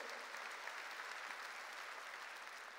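Congregation clapping during a Korean church sermon, a continuous dense applause heard from within the room, steady in level from start to finish with no speech over it.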